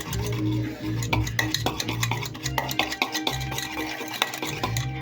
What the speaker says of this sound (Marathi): आता हे मिक्सरने मिक्स करून घेऊया